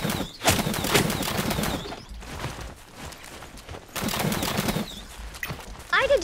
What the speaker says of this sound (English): You're shooting at somebody.